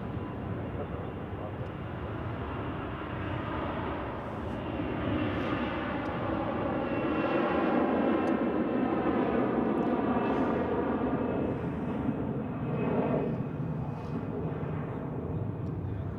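An airliner takes off at Zurich Airport, its jet engines producing a broad, steady roar that swells gradually and holds strong, heard from a distance without a break.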